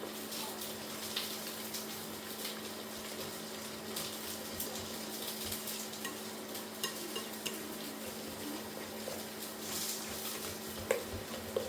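Milk stirred bit by bit into batter in a bowl for toad in the hole, quiet continuous wet swishing with occasional soft clinks of utensil against bowl over a low background hum.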